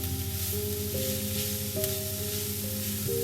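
Bacon-wrapped rolls fry in a pan with a steady, close sizzle that holds throughout, partly covered by sustained tonal music playing over it.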